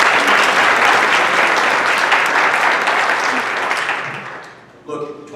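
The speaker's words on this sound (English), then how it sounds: "So a big round of applause for them." A loud, dense round of applause fills a union hall during a Democratic forum, sustained for over four seconds before dropping off, with a voice starting right after.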